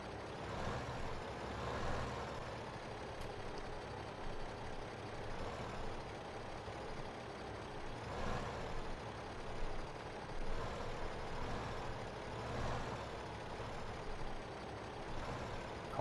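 A tractor in Farming Simulator 15 reverses a trailer, giving a steady low engine drone with faint periodic beeping running throughout at a moderate, even level.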